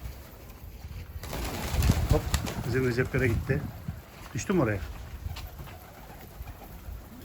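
Pigeons cooing in a Turkish pigeon-keeping setting, a few rolling coo phrases rising mid-way under and between lively men's chatter, with wind and handling noise around.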